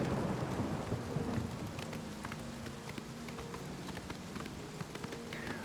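Steady rain with rumbling undertones in The Elder Scrolls IV: Oblivion, a continuous downpour with scattered drop patters and soft low thunder-like swells, no voices.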